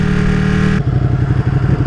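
Ducati 959 Panigale sport bike engine revving hard, then dropping back into a throbbing, pulsing lope, loud and close with no voices.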